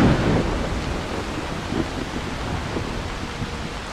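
Steady rain pours in Skyrim, a modded fantasy game, with a low thunder rumble rolling underneath. The downpour is a constant broadband hiss that stays even throughout, with no talking.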